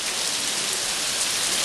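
Steady, dense rain pours down and patters on surfaces, a continuous even hiss that holds close and loud throughout, with no voices.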